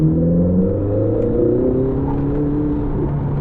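Ferrari 488 GTB engine pulling hard under acceleration, a loud, steady low growl with rising harmonics that holds throughout without any talk.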